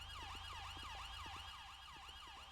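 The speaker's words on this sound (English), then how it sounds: "Them sirens are loud." Police siren in the game GTA V on a British police roleplay server wails continuously in fast, evenly repeating sweeps over a steady low engine hum, close and constant.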